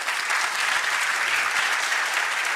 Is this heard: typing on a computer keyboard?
no